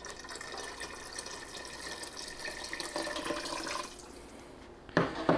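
Water runs steadily into a pot with a broad splashing hiss, shifting slightly as the level rises, then a few clunks near the end. About 1 3/4 cups of water are added for leek and potato soup.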